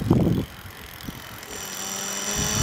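An electric bicycle with 20-inch wheels and an 80V LiPo battery motor is ridden, giving a steady high motor whine over rushing wind noise, with a louder gust at the start and nobody speaking.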